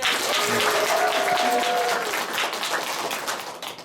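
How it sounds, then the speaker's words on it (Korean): Audience bursts into applause before a poem recitation, a full wash of clapping that holds steady for several seconds, with a brief faint tone in the background, then tapers slightly toward the end. "박수 한번 드릴게요"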